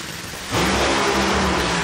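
A Nitro Funny Car engine at a drag race roars suddenly to full power after a quieter rumble, a loud, dense, sustained blast that fills the air at the track.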